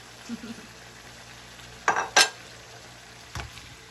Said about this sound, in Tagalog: Lalagay ko na yung cabbage.